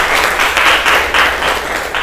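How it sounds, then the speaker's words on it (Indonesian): A classroom of students in an Indonesian teacher-training business and marketing lesson claps loudly for Amalia. The burst of close, dense clapping is brief and continues without a break. "Kasih tepuk tangan buat Amalia."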